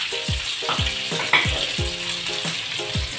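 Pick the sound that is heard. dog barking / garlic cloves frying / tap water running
garlic cloves frying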